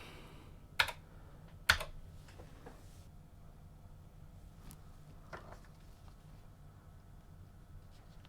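A few keys pressed on a Texas Instruments TI-99/4A home computer keyboard, two distinct sharp clacks early on followed by softer scattered taps over a quiet hum, close and sparse.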